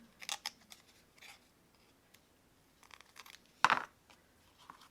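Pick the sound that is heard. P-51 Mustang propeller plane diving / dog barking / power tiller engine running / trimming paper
trimming paper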